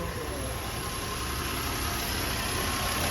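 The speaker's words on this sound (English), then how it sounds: "the vehicle is idling normally" A car engine idles steadily with a low, even rumble and faint vibration, close by and continuous.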